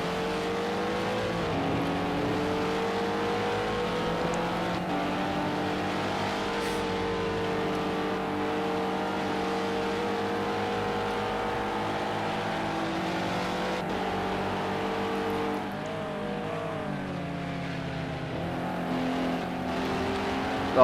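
Sustained, loud engine roar of GT3 race cars, including a BMW M6, at the Nürburgring GP circuit in a sim racing game, with layered harmonic tones rising and falling through gear changes across the whole stretch.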